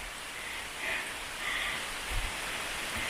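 Steady rain patters down in a constant wash of noise, with a few heavier drips and low thumps standing out; no voices.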